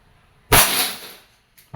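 A Crosman SNR 357 dual-ammo airgun fires a pellet with one sharp, loud crack and a brief hissing tail, then a faint second click near the end.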